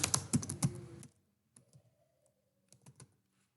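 HTML code being typed on a computer keyboard during a website-building lesson, a fast burst of clattering keystrokes and then a few scattered separate taps after a short pause, close and clear with no speech.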